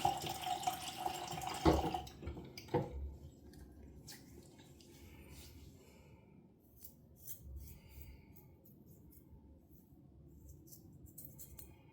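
Tap water splashes at a bathroom sink as a face is wetted during a safety-razor shave, with a few close splashes at the start, then a faint steady trickle and scattered drips.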